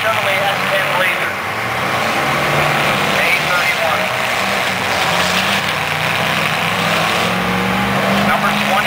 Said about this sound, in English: That's a two-wheel drive Chevrolet S10 Blazer.